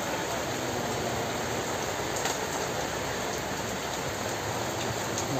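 Steady rain pouring down at an outdoor flea market at the university in Dortmund, a dense continuous hiss of drops on surfaces with faint scattered taps and no voices.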